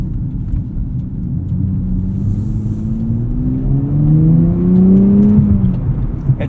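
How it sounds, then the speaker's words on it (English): A 2024 Nissan Z Nismo accelerates hard, its engine note climbing steadily in a loud continuous drone and then dropping briefly as it upshifts, heard from the driving seat with no talk. "it's always upshifting into 7th, 8th gear as quickly as it possibly can"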